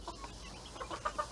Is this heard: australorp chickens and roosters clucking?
yes